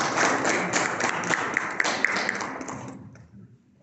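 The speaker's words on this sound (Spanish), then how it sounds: "a quienes les damos un gran aplauso" Audience applause for the panel speakers at a Journalists' Day program: brisk, dense clapping with a few sharper individual claps standing out, trailing off and stopping abruptly near the end.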